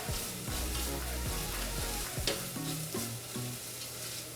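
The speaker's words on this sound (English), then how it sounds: "we have the ginger, the garlic, and the onions all sauteing in our pan right now" Ginger, garlic and onions sauté in a pan with a continuous close sizzle and a few scraping stirs, heard alone with no speech.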